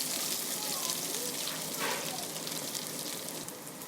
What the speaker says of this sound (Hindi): प्याज को डालकर इसको थोड़ा सा लाइटली हम ब्राउन करेंगे